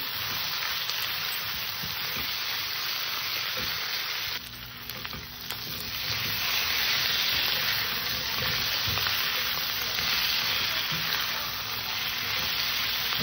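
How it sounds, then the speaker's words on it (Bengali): A curry of catla fish with potato and capsicum, coated in ginger-cumin paste, sizzles and fries steadily in a pan, a loud, close, continuous hiss with a brief dip midway and no talk. "তরকারিটিকে ভালো করে কষে নেব, যাতে আদা জিরে বাটার কাঁচা গন্ধটা না থাকে।"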